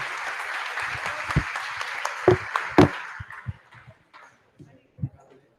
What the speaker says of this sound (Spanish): Un aplauso para todos, gracias